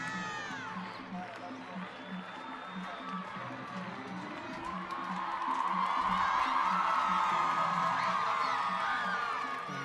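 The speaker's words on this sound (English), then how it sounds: "And the fans cheering relief" Fans at a women's hockey match between England and Argentina send up a broad, distant crowd roar that swells in the second half, under a commentator's voice.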